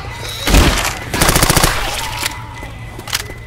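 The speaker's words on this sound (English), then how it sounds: "Throwing a pipe bomb." A pipe bomb in Left 4 Dead 2 goes off as a loud, close burst of rapid crackling blasts, followed by a second dense flurry of sharp pops and a fading rumble with a few scattered late bangs.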